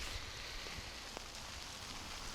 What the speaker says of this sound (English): For sure, it's hail.